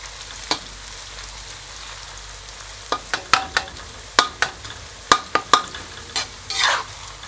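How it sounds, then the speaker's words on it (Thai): Fish frying with lemongrass in a pan, a quiet steady sizzle under a string of sharp clacks and scrapes as a utensil stirs the pieces, close and irregular, with no talking. "ขั้นตอนตรงนี้คือ คนมานิดนึง ว่าถ้าเราไม่ค่อยคนมันมันจะ สุกไม่ทั่วถึงครับ"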